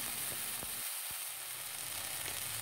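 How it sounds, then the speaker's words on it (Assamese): Roselle leaves sizzle and fry in a pan for a fish curry, a steady broadband crackle with a few sharp pops, close and fairly quiet, with no talking. "টেঙা পাতটো বেছি নাভাজি ইমানে ভাজিছোঁ"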